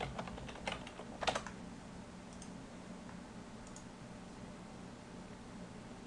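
Quiet keystrokes on a computer keyboard as a file name is typed, a short cluster of clicks near the start that then trails off into steady low fan-like background hum.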